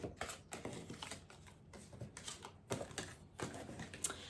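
Quiet, rapid papery riffling and soft slaps repeat in bursts as tarot cards are shuffled close by, with no talking.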